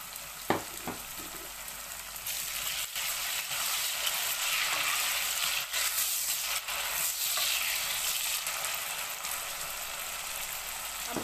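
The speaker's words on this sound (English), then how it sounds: "I'm going to leave it to fry for 3 minutes before I put the garden egg" A Nigerian garden egg and plantain dish fries in a pan with a continuous, even sizzle and crackle that holds steady for several seconds, with a few faint stirring knocks and no talk.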